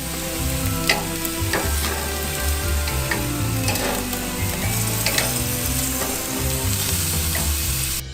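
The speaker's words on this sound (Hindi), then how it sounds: "हम टुकड़ों को तलने के लिए ग्रिल डाल देंगे। पहले चिकन, फिर ऑस्ट्रिच का मांस।" Chicken pieces and ostrich meat frying on an oiled grill, a steady dense sizzle with crackling pops throughout, close and loud with no talking.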